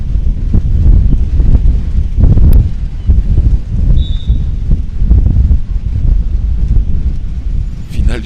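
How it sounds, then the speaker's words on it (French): Strong wind blasts the microphone at a beach volleyball world final between Brazil and Paraguay, a loud continuous low rumble with gusty surges throughout. "malgré le vent fort"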